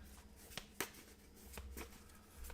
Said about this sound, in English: shuffle them back in